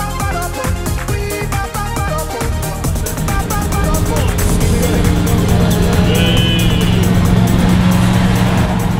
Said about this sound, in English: Overtaking a car on pure power.